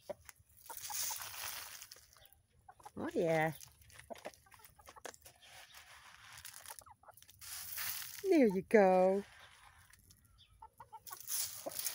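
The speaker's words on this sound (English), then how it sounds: "These chickens are so fat, but not too fat." Chickens cluck and squawk nearby in two short bursts, with someone speaking briefly between them.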